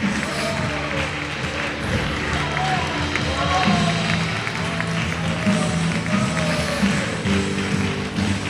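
A church congregation applauds at a service, a sustained wash of clapping and crowd noise mixed with voices, organ-like tones and a person speaking.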